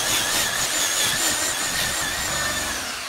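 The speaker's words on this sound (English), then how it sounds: "Now I have the trigger wide open on this, and it's at 1750 RPMs is the max on this buffer." An older car paint polishing buffer spins at full trigger, 1750 RPM, with a washing pad on a car's paint, giving a close, loud, steady whirring whine with a slight wavering squeal and no talking.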